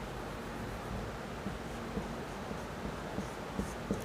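Writing on a board during a maths lesson on ellipses: faint, soft scratchy strokes with small taps, steady and close, over a low background hiss with no speech.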